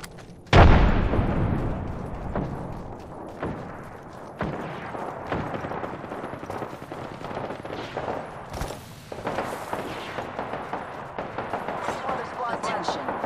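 A frag grenade goes off in the shooter Apex Legends as one loud, sharp blast that decays into ringing rumble, followed by scattered gunfire and pops, with voices talking throughout.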